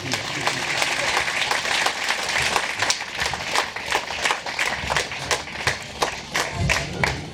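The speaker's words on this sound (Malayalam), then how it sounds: "അവർക്ക് നിങ്ങൾ നിറഞ്ഞ കൈയടി കൊടുത്തു" An audience at a local quiz and kaikottikali competition gives steady, fairly close applause as judges arrive on stage, a dense patter of many hands with sharper individual claps and a murmur of crowd noise beneath.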